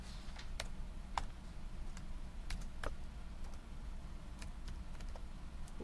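Fingers press keys on a graphing calculator to enter an equation, producing light, scattered clicks at an uneven pace, close by, over a steady low hum.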